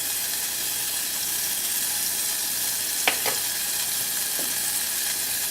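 Butter and flour sizzle steadily in a small saucepan as a roux is made, a continuous close frying hiss with a few brief metallic clinks partway through.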